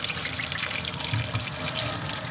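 Hot water runs steadily from a kitchen tap fitted with a light-up LED faucet attachment, a continuous close splashing stream with no voices.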